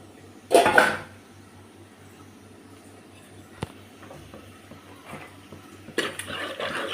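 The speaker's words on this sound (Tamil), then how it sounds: "தண்ணி ஊற்றிக்கிறேன்." Water is poured into a cooking pot of fish kulambu simmering with raw mango, chili powder and Kashmiri chili, giving a short, loud splashing rush, then quiet kitchen clatter, and a second sustained pour toward the end.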